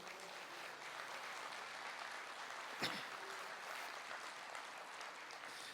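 Steady applause from a large crowd fills the whole stretch, an even wash of clapping with one brief louder thump partway through.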